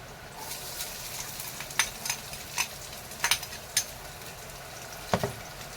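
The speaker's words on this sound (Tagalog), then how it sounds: "Tapos saka natin ilagay ang bawang." Minced garlic drops into a hot pan for chicken tinola and sizzles softly, broken by a few light stirring clicks and taps, fairly faint, with no voices.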